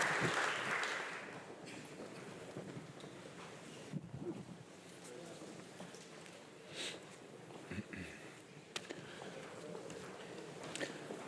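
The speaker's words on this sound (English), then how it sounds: "Let's applaud for them" An audience at an industrial carbon management forum claps for the panelists, a moderate burst of applause that tapers off, with some voices and shuffling beneath.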